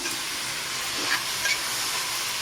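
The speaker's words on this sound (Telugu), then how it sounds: "ఇలా బాగా కలుపుకోవాలి చాలా సేపు వరకు పచ్చివాసన పోయేలా వేపుకోవాలి" Grated pumpkin stirred and fried in a pan for halwa, a steady hissing sizzle with soft scraping strokes of a spoon.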